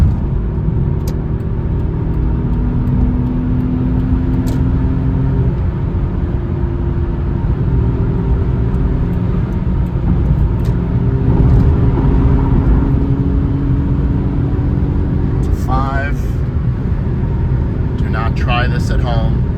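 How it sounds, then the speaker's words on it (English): A 1993 Ford Probe GT engine pulling in fourth gear at a little over 60, a steady loud droning rumble with tyre and road noise, heard from inside the cabin while someone talks over it. "If we get a little bit more room to breathe here, we'll open her up a little bit."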